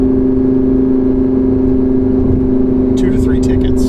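A supercharged Audi R8 V10 drives under power with a steady, loud engine drone and strong low harmonics throughout, plus a few brief high-pitched bursts near the end.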